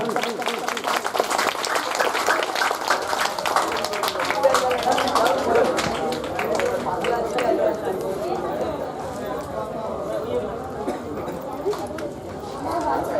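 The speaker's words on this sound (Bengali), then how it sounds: "সবাই মিলে একবার জোরে হাততালি।" A crowd at a stage felicitation ceremony applauds, loud and dense at first, then thinning and fading toward the end, with some murmuring beneath the clapping.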